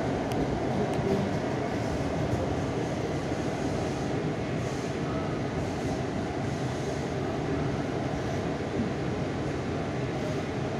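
Inside a Mumbai metro train running from Kandivali Akurli to Aarey, a steady low rumble and rushing hum of the moving carriage continue evenly for several seconds, with no one speaking.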